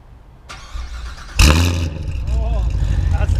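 A stock 2016 Corvette, straight-piped with headers and a catless X pipe, cranks and then fires with a sudden loud bark before settling into a rumbling, burbling idle close by, while people talk over it.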